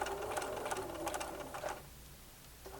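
A sewing machine stitching hand-dyed fabric pinned to a template, running in a steady fast mechanical rhythm close by, then stopping and leaving a quiet room.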